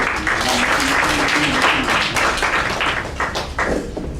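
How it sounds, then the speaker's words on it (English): Sustained applause from an audience at the close of a Toastmasters-style club meeting, dense clapping filling the whole stretch at a steady loud level, with faint voices underneath. "give a big round of applause for all the role players"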